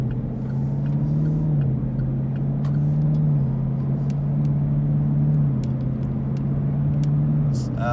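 A car driving along Lee Highway (Highway 11) in Cleveland, Tennessee, heard from inside as a steady low engine and road drone that holds evenly from start to finish.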